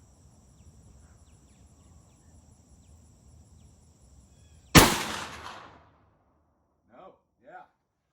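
Single sharp .308 rifle shot fired with handloaded ammunition, loud and close with a decaying rumble, set against steady cricket chirping outdoors, followed by a couple of brief faint sounds.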